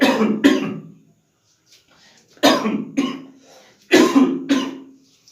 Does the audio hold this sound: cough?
yes